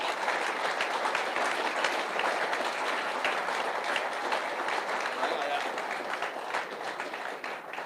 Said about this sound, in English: I think he's milking the applause